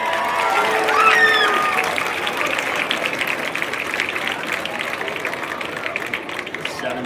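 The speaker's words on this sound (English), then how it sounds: "How about a nice round of applause for our Squire cheerleaders and Squire marching band?" Crowd applause at a high school football game for the Squire cheerleaders and marching band, a broad wash of clapping and cheering from a stadium crowd that swells early then carries on steadily, with faint whistles and voices mixed in.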